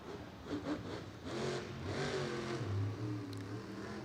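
The Grave Digger monster truck's engine revs and strains in a Monster Jam freestyle, a rough mid-pitched roar that surges and drops, heard at a distance under arena ambience.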